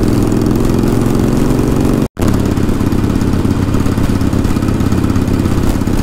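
A motorcycle idles loudly and close by in North Cotabato, its engine putting out a steady, even drone, broken by one very brief dropout.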